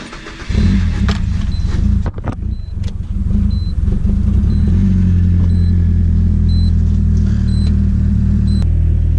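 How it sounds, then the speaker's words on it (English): A Nissan 240SX drift car with a slight exhaust leak rumbles loudly from the cabin, a deep steady engine drone after a brief quieter start, with a few clicks and knocks along the way. "I feel like I could still hear that exhaust leak a little bit"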